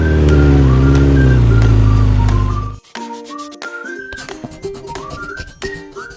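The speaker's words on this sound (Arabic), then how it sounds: "موتور سايكل دراجة نارية" A motorcycle engine roars loudly and rises in pitch as it revs for under three seconds, then stops abruptly.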